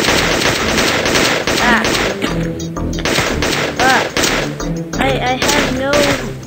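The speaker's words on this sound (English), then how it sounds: "I like my minigun though." Rapid minigun fire from the Gun Mayhem video game, a dense loud stream of shots mixed with other game effects and voices over several seconds.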